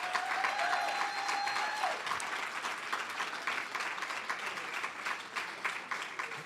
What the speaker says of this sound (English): Let's give another round of applause to all of the awardees tonight.